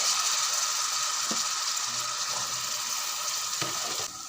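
Boiled chickpeas go into a pan of spices cooking on low flame for puri chole, setting off a steady loud sizzle with a few faint scraping stirs, and the frying eases slightly at the end.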